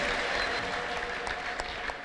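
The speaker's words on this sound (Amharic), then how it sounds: "እስቲ አጨብጭቡ ለጌታ ለኢየሱስ ክርስቶስ ክብር።" A church congregation claps for the Lord during a service, a loud, continuous burst of applause from many hands that tapers slightly toward the end.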